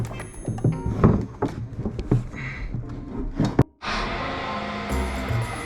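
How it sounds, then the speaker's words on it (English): Fuel tank of a Suzuki DR650 motorcycle being set onto the bike during a first service, a series of close dull knocks and handling thuds, then a sudden loud rushing hiss-like burst near the end. "let's chuck the tank on"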